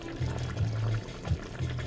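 Tomato meatball instant ramen noodles cook in a pot, giving a steady close bubbling simmer with soft liquid gurgles throughout.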